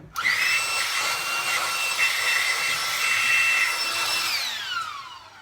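Compressed air blasting corrosion out of a Mazda Miata MX-5 short-nose crankshaft: a steady, loud, hissing jet with a whistling tone runs for about four seconds, then tapers off and fades.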